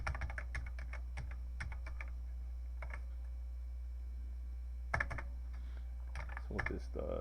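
Keys clacking on an Amstrad CPC 464 keyboard in short bursts of quick presses separated by pauses, close and fairly quiet over a steady low hum, with a voice faintly audible at times.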